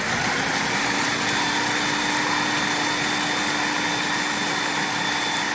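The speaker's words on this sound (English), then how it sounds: "I have to grind these up 1 bag at a time because my food processor is smaller." A small food processor grinds pork rinds into crumbs, giving a loud, steady motor whir with a constant hum that runs unbroken throughout, with no talking.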